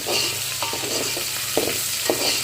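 Mutton pieces frying in a pan give a brief, moderate sizzle, with a few soft stirring knocks over a steady hiss and no voices.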